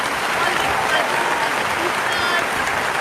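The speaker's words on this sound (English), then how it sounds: "I want everybody to clap here" Audience at an awards ceremony applauding, a continuous wash of many hands clapping at even loudness for a few seconds, with some voices mixed into the crowd noise.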